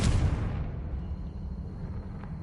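A Confringo fire spell explodes in Hogwarts Legacy, a loud burst that opens with a sharp blast and then rolls into a sustained low rumble lasting a couple of seconds.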